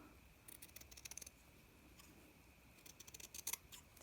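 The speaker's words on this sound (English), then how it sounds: "So I'll cut that out a bit around it." Scissors snip around a flower motif cut from lightweight fabric, two quick bursts of close, crisp blade clicks separated by a quiet pause.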